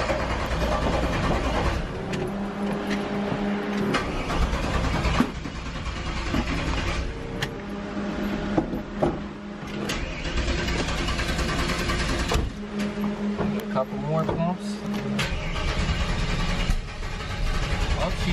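A 1968 Pro Street Camaro engine cranks and runs for the whole stretch, a loud, dense mechanical roar with repeating pulsing surges close to the microphone.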